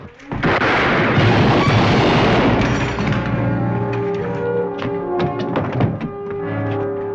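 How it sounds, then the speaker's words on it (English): A burst of shotgun gunfire on a Western TV episode set near a barn. One loud, heavy blast rolls out and fades into a long, echoing tail with scattered clatter. "Shotgun?"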